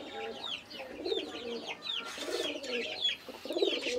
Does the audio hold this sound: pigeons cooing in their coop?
yes